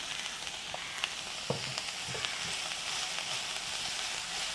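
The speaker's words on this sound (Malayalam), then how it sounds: "നമുക്ക് നമ്മുടെ സവോളയൊന്ന് നന്നായിട്ട് ഫ്രൈ ചെയ്തെടുക്കാം." Chopped onions with a pinch of salt fry in a pan, giving a steady, continuous sizzle with occasional soft pops and clinks from stirring, close and alone.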